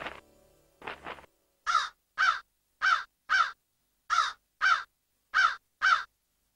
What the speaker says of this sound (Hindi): क्या तुम इस कौवे की भाषा समझ सकते हो बीरबल?